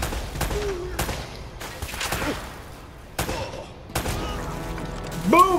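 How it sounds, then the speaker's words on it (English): Grenade blast and gunfire in the Uncharted: Drake's Fortune Remastered video game, several sharp bangs spaced about a second apart over game music and effects, with a louder burst near the end. "Let's throw a grenade at them."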